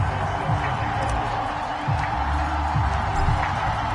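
Stadium crowd noise from a PS4 football video game broadcast, an American football match at FedEx Field against the Chicago Bears, a steady dense roar with swells of cheering throughout, fairly loud and continuous.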